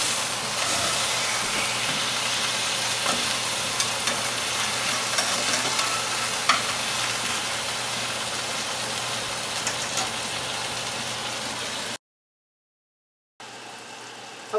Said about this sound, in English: So you keep the heat high enough so that the meat sears, browns, and releases